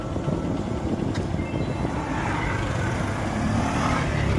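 A road vehicle drives off on the way to Vikramgad, its steady engine and road noise rumbling low and continuous, growing slightly louder as it gets under way, with no talk.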